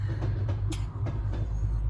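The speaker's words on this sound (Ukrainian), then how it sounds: "Таки, слухай, таки ми побачили поїзд." A train rolls past close by, a loud continuous low rumble with rhythmic wheel clacks over rail joints.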